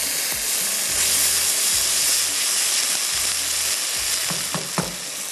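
Onions frying in cooking oil with a splash of water for a Kashmiri chicken masala, giving a loud, continuous close hiss and sizzle throughout, with a few stirring knocks near the end and no talk.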